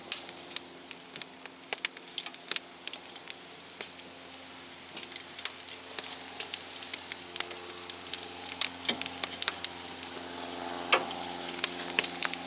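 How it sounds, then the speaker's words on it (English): Sweet peppers char over an open flame with a quiet, steady roar, broken by scattered sharp crackles and pops that grow busier toward the end. "So let me get these charred up and we'll move to the next step."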